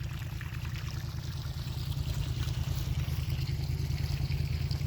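Water floods down a planted garden row to irrigate corn, a steady, close, continuous rushing wash with a heavy low rumble that stays even throughout.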